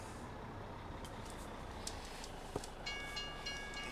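A train passes in a farming video game, heard as a faint, steady low rumble with a few light clanks and a thin tonal whine near the end, with no talking.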